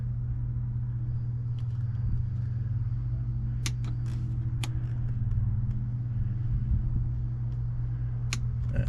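A Mastercraft NXT boat's Ilmore 6.0 engine idles steadily during winterizing, a constant low rumble with a few faint clicks and taps over it and no talking.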